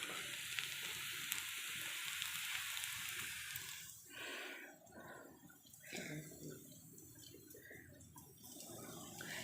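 Ginger, garlic and green chilli paste sizzling in a pan, a steady soft frying hiss with occasional stirring, quiet and close.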